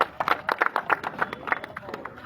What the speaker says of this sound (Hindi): एक बार इनके लिए जोरदार तालियां बजाएं।